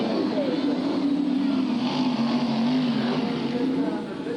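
Race cars roar around Bradford raceway in 1994, a continuous loud engine drone with a wavering pitch that holds steady throughout, with no one talking.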